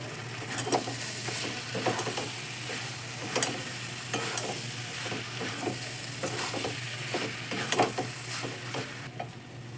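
Boiled mutton keema being stirred into vegetables in a pan, a steady low sizzle broken by repeated scraping strokes of the spoon at an even rhythm, close and fairly loud with no talk.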